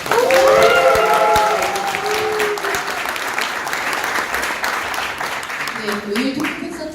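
A political talk-concert audience in a hall bursts into loud cheering and sustained applause, with whoops and shouts at first, then dense clapping that holds steady as a voice on the microphone begins speaking over it.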